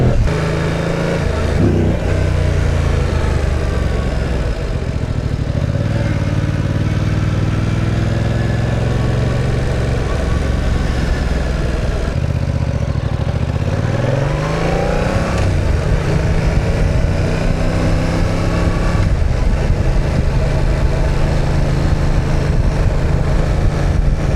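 A 2025 Yamaha MT07 motorcycle with its stock exhaust, the parallel-twin engine running close by, rising and falling through several rev swells and gear changes with a steady throaty drone.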